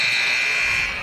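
Arena horn buzzer at a 1A boys high school state championship basketball game, a loud steady electronic tone holding for about a second and fading slightly at the end.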